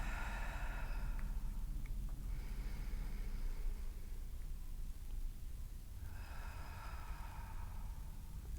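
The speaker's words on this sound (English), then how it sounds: "we're just gonna take a few deep inhales through the nose and exhale through the mouth" Slow deep breaths during a Pilates cool-down, drawn in through the nose and let out through the mouth: two long, soft airy swells with a quiet gap between, close and steady over a low background hum.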